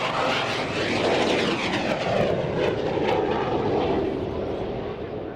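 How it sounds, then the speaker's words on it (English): Piston-engined Spitfire Mark 19 and twin Eurojet EJ200-powered Eurofighter Typhoon flying in tight formation at an RAF Waddington airshow, a loud sustained engine roar passing overhead with shifting tone, alone without speech. "with the Mark 19 Spitfire you've seen there, incredibly powerful engine in the front there, but the Typhoon, powered by the two Eurojet EJ200 engines"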